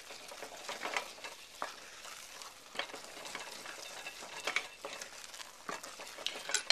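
A spoon stirs fresh basil and a pat of butter into soft polenta in a pot, a quiet wet scraping and light patter, fairly faint and continuous, with no voices.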